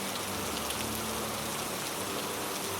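Steady rain falls in a dense, even hiss of drops spattering on surfaces, close and continuous with no voices.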